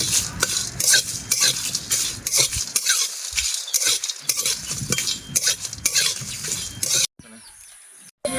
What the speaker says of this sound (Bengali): দিয়ে আমি এটা হালকায় নাড়াচাড়া করে ভেজে নেবো।